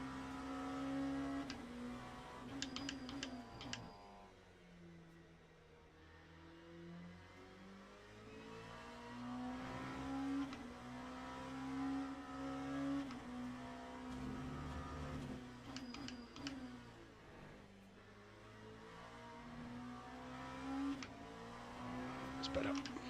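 A simulated race car engine in the sim racing game Le Mans Ultimate revs hard and upshifts from first to second, its tone climbing and then dropping sharply at each gear change at a moderate, steady level.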